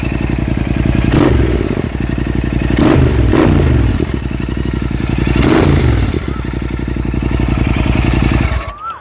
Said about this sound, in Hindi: अब थोड़ा रैप करके दिखाता हूँ आप लोगों को।